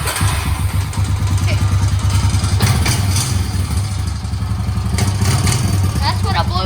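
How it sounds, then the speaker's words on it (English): A broken-down four-wheeler ATV engine runs with a rough, rattling idle and uneven pulsing, loud and close, with people talking over it. "That's what a blew up four-wheeler sounds like"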